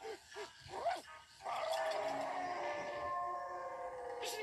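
A dog gives a few short barks and a rising whine before a steady drone takes over, fairly faint and at a distance.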